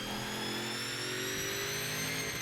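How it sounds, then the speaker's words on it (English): A car engine in the racing game Forza Horizon 4 drones steadily and loudly throughout, a continuous tone that shifts slightly in pitch, with no talking over it. "is this engine sound like glitched?"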